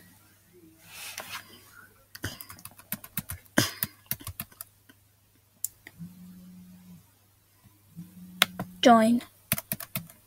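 Arrow keys are tapped on a computer keyboard during a Splix.io game, giving scattered close clicks in quick bursts and single taps, with a brief spoken word, a low hum and a couple of electronic tones from the game.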